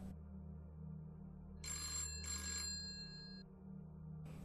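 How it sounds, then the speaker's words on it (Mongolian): A telephone bell rings in two short bursts, bright and metallic, over a quiet low hum. "утас дуугарлаа"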